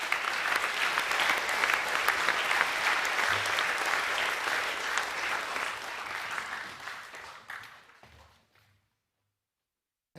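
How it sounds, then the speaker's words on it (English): Audience applause at a school academic awards assembly, sustained steady clapping from a large crowd that gradually thins and fades out into silence near the end. "Can you give a round of applause for Academic A+ winners?"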